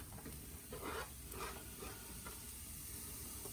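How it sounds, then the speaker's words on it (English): One diced onion and two cloves of garlic sauteing without oil in a very hot dry skillet, giving a steady soft sizzle and hiss with a few brief louder crackles near the start. "I'm going to saute that with no oil"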